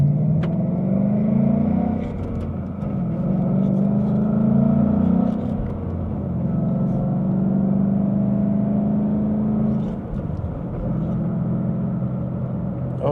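A 2015 Ford Mustang 5.0 50th Anniversary pulls away from first gear with a steady, loud engine drone and rising pitch sweeps, easing briefly before building again, heard from inside the car.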